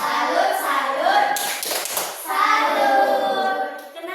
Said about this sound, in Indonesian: ibu beri tepuk salut dulu buat Rangga